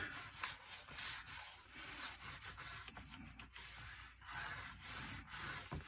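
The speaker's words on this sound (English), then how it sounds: "Go ahead and burnish that down." Paper being burnished down onto a large handmade mini album page, a steady close scraping rub that continues in short back-and-forth strokes with no talking.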